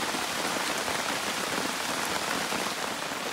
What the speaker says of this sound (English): we got a little bit of rain coming in here. It's going down pretty good